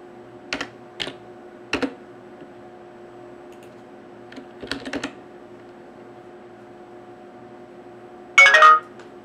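Short bursts of computer keyboard typing for a chat reply, scattered clicks separated by quiet gaps, followed by a loud brief electronic notification chime near the end.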